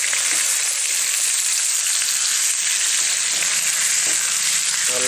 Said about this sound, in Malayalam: നല്ല വറ്റൽമുളകൊക്കെ വറക്കുന്നതിൻ്റെ ഇടയിൽ നല്ല മണമൊക്കെ ഫ്ലേവറൊക്കെ വരുന്നുണ്ട്